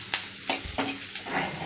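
Onion and ground masala paste fry in a pan for a mixed dal, with repeated scraping strokes of a spoon stirring in a steady rhythm over a soft background sizzle, close and moderately loud.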